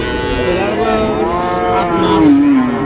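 A Friesian cross heifer calf moos loudly at a cattle market in Hazratpur, Bangladesh, giving one long drawn-out low call that bends downward near its end, with other animals and market noise faint behind it.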